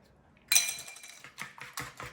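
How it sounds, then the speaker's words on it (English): Eggs cracked into a bowl while making matza brei, a few sharp clicks and taps of shell against the rim followed by softer knocks, close and fairly quiet. "And now we're going to break the eggs."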